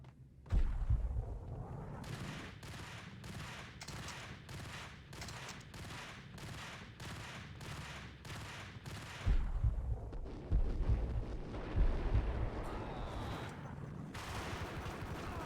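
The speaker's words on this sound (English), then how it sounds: "Four shots with the pump action shotgun." A run of pump-action shotgun blasts in the game Max Payne, with about a dozen evenly spaced sharp reports in quick rhythm, followed by a few heavier scattered shots and rumbling action.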